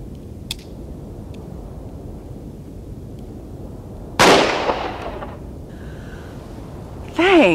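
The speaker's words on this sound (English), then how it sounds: "I'm going to load your revolver with some dummy rounds and some live rounds." A single loud revolver shot cracks sharply mid-clip over quiet background during firearms training with mixed dummy and live rounds, followed by a brief echoing tail and a voice near the end.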